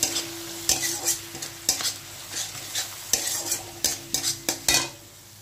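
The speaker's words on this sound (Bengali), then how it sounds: "লো ফ্লেমে আমি মশলাটা কষিয়ে নেব।" Onion and spices stir-fried in a pan over a low flame, for a Bengali jhinge pabda fish curry: a steady soft sizzle broken by about a dozen sharp scraping stirs of a spoon against the pan, with no talking.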